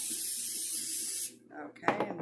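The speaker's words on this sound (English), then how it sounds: "So I'm just going to spray this" Cooking spray hisses steadily from a can onto shrimp in a pan for about a second, close and fairly loud, then stops, leaving quieter kitchen clatter and a brief voice.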